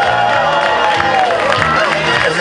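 A packed crowd at an Oktoberfest show in a Wiesn tent cheers and whoops loudly and steadily, with dense overlapping voices throughout.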